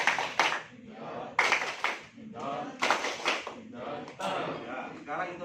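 A group performs the Indonesian 'tepuk becak' clapping chant at a school event, with bursts of claps mixed with loud shouted chanting voices in a call-and-response rhythm.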